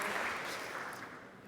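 Brief burst of audience applause at a SolidCAM software presentation, a soft, steady patter of many hands clapping alone, fading slightly toward the end.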